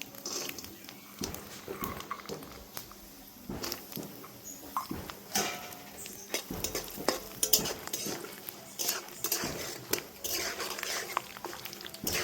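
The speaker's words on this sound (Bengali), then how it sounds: "বাদামটা একটু ভেজে দেবো।" Spoon scraping and stirring in a hot pan as peanuts fry in a tempering of dry red chillies, bay leaves and five-spice, with busy irregular clatter and faint sizzle throughout.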